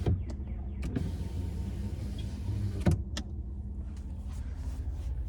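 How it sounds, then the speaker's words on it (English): Power sliding rear window on a 2024 Ford F-150 XLT FX4, a steady low motor hum running throughout inside the cab, with a few soft clicks and knocks over it, fairly quiet. "We have a power sliding rear window."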